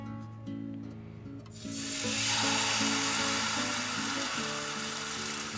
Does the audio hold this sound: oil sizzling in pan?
yes